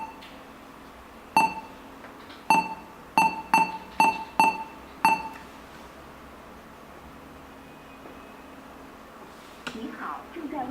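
Phone dialing tones play through a car stereo's Bluetooth in a 2006 Toyota Corolla with an 8-inch Android in-dash unit, seven short evenly spaced beeps over a quiet hum, then a faint rustle.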